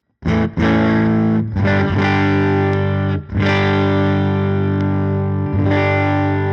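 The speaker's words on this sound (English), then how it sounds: "it is quite a subtle difference between the neck pickup and then the out of phase neck pickup sound" A clean electric guitar on the out-of-phase neck pickup setting rings out sustained chords with a thin, hollow tone, a few strums letting each chord hang before the next.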